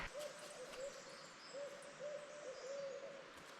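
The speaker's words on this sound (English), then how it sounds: "It sounds like an owl." Owl hoots along a spring road in April, with patches of snow about: soft repeated low calls, a second bird seeming to answer, rising over a steady windy outdoor hiss at moderate distance.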